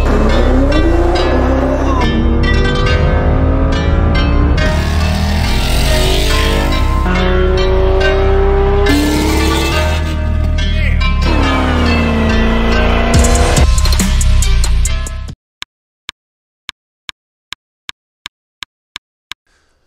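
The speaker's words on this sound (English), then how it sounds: "2018 Stage 2000 horsepower supercharged Yenko Camaro. This thing is an absolute monster and it sounds the part." A supercharged 2018 Yenko Camaro Stage II, rated around 1000 horsepower, roars through repeated rising and falling revs close by for about fifteen seconds, then cuts off abruptly, leaving only sparse faint clicks.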